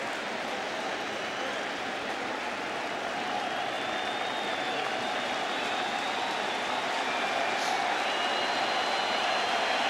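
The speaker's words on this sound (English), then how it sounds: "Another near capacity crowd here at Citi Field" A near-capacity baseball crowd at Citi Field during a Phillies at Mets game, heard as a steady, broad murmur of distant spectators that swells slightly, with faint whistles rising above the wash.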